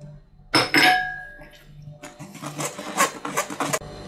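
Cake batter with flour and baking powder being mixed, an electric mixer whirring in short bursts with clinks against the bowl, fairly close and loud, no talk.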